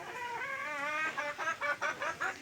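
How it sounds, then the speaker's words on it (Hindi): A chicken clucks close by, a drawn-out call followed by a quick series of short, rhythmic clucks. "और मुर्गी यहाँ पे कॉक किए जा रहा है, तो उसका आवाज़ आप लोग को सुनाई दे रहा होगा"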